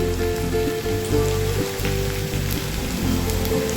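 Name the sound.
potatoes, onion and cauliflower frying in oil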